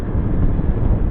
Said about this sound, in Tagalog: Hangin ah.